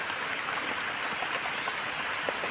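Steady rain falls in the outdoors during a mushroom hunt for amanita mushrooms in Phetchaburi, Thailand, a dense, even hiss with no voices and no breaks.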